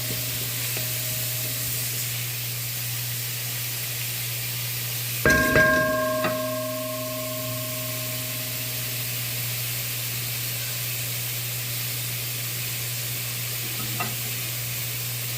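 Grated carrots drop into a hot frying pan with smoked herring, giving a sudden burst of sizzling and a stir clatter over a steady frying hiss that then settles back to a constant sizzle.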